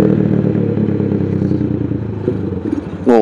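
A Suzuki Sigma motorcycle with water in its carburetor tank runs with a steady, clattery engine drone close up, then the sound changes abruptly near the end as the engine falters.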